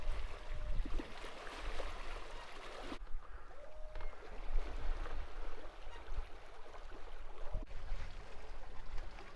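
Ocean swell breaks into white water near Piercy Island, heard from a sailing catamaran as a rough wash and splashing under steady wind noise.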